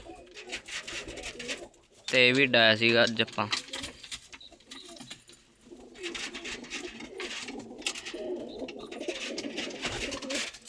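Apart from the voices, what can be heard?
homing pigeons cooing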